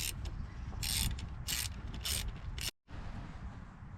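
Quick bursts of close ratchet clicking come from a wrench bolting on a gear selector part of an Audi TT, and the clicking stops abruptly near the end before quieter handling noise follows.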